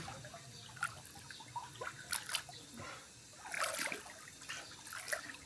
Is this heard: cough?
no